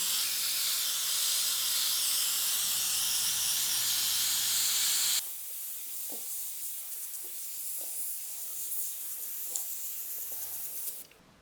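Airbrush spraying paint with its trigger pulled fully back gives a loud, steady hiss of rushing air for about five seconds, then a quieter airy hiss with faint small clicks and taps from handling.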